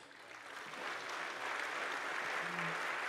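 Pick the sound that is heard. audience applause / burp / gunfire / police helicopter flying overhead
audience applause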